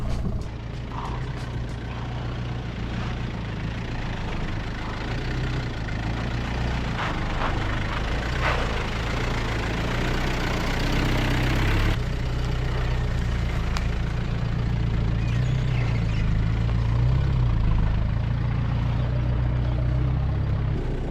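An Isuzu MU 4x4 with a front locker and custom barwork rumbles through off-road terrain, its engine a steady low drone that swells and eases, close and continuous with no talk.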